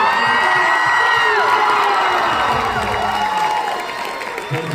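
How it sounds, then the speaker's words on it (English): A crowd at a convention panel in New Jersey cheers loudly and steadily, with shouts, whoops and some applause, close and continuous throughout. "Guys, make some damn noise for Ryliver"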